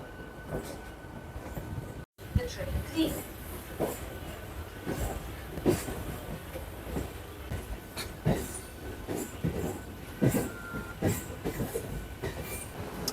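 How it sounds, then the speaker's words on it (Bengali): A Howrah–Katwa local train runs along the line, its wheels clattering in a steady rhythm of clicks and thumps over rail joints amid a constant rumble and faint metallic squeal, heard from inside the carriage with no talking. "আমাদের ট্রেন কিন্তু প্রায় চার মিনিট লেট করে হাওড়া স্টেশন থেকে ছেড়ে দিয়েছে"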